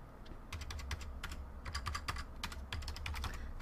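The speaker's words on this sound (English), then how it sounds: "Then click your text and just start typing." Fingers tap steadily on a computer keyboard, a close, quiet run of quick clicking keystrokes in uneven bursts with no talking.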